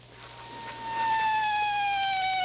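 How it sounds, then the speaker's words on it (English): A 155 millimeter artillery shell whistles overhead in thick woods during the Vietnam War, a high descending whine that swells from faint to loud and holds steady, with no voices. "that's the sound of a 155 millimeter shell going overhead toward the enemy"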